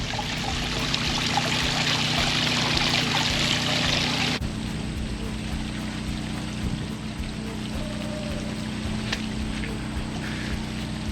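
Water pours and gushes steadily from a new well pump outlet, a continuous rushing flow that drops to a softer trickle partway through.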